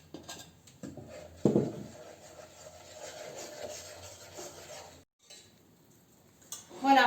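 Chocolate mousse mixture and eggs are stirred in a bowl, with a clink of utensil against the bowl, soft scraping and a few sharper knocks near the end.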